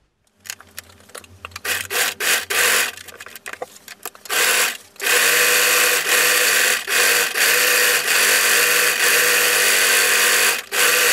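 A sewing machine stitches fabric pieces of a wrap top, first in short stop-start bursts with pauses, then running loud and steady in long continuous stretches with only brief breaks.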